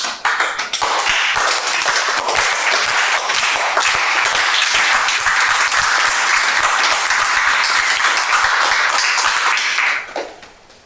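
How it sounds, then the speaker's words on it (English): A class applauds after a student play, sustained dense clapping from a group of listeners that starts almost at once, holds steady for about ten seconds, then cuts off sharply. "The class is silent at first, then applause builds."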